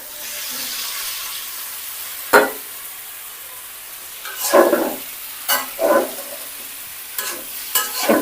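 Vegetables going into a spiced masala and frying in a pan, with a soft continuous sizzle broken by several sharp spatula scrapes and stirring bursts, close by and without talk.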